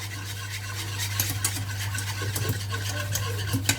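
Spoon or whisk stirring béchamel sauce in a pot, a steady scraping swish with soft clinks against the metal over a constant low hum from the stove.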